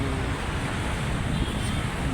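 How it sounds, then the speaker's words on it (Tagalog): Strong wind on a bridge under a midday sun, a loud continuous roar of gusts buffeting the microphone, with no distinct pauses. "hangin dito sa may bridge mga idol."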